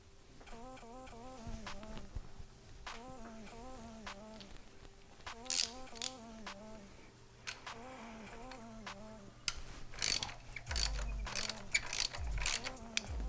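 A socket wrench ratchets on a bolt while installing a solenoid on a 5th-generation Toyota RAV4, several quick bursts of rhythmic clicking close up, with clanks and handling noises in between.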